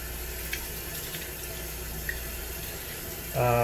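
Tap water runs steadily into a sink while plastic reel-to-reel adapters are washed with soap, a constant close wash of sound that swells louder near the end.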